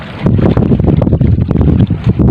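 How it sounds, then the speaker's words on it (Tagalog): Loud, gusty wind pounds the microphone on a fishing boat in rough seas off Corregidor Island, a constant low rumble with choppy fluttering bursts throughout a short stretch. "medyo mahangin talaga siya at maalon"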